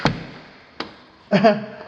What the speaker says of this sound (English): The hall bathroom door does close and latch.